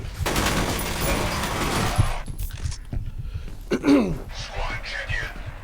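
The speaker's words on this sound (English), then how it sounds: "So I'm going to toss a grenade at one of the enemies, and hopefully it will take out one of them" A grenade explosion in the shooter game F.E.A.R., with dense rattling gunfire dropping into a single heavy burst partway through. Clattering debris and softer game noises follow, and a voice speaks over parts of it.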